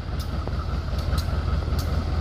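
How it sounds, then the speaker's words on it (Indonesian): A Garut local train idles at Cibatu station, giving a steady low rumble with faint metallic clanks and hisses near at hand. No voices are heard. "Saya mau naik kereta ini nih rencana."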